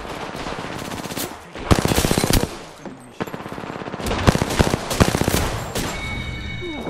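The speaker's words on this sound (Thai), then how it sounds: "ทำไมกูยิงน้องไม่โดนนะ" Automatic gunfire in the battle royale game Apex Legends: loud, rapid bursts of shots that come and go, with sustained rattling volleys and short pauses between them, and no talking.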